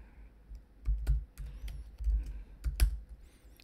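Typing on a computer keyboard, close and clear, with irregular bursts of clicky keystrokes and short pauses between them.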